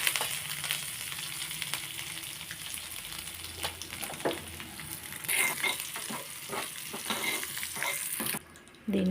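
Cumin, dried red chillies and curry leaves frying in oil as a tempering for tomato-mint chutney, a close, steady crackling sizzle with bursts of sputter and stirring, cutting off abruptly near the end.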